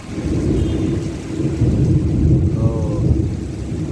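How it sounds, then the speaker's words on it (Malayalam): Heavy rain roars steadily with deep rumbling thunder rolling underneath in Jeddah, Saudi Arabia, a loud continuous storm with no voices. "നല്ല ഇടിയും മിന്നല."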